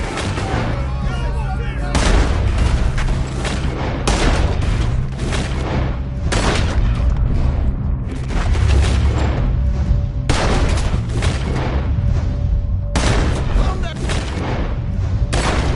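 Heavy gunfire rings out during a Red Dead Redemption 2 story shootout: loud, booming shots come in repeated bursts every couple of seconds over a steady din, with voices talking in between.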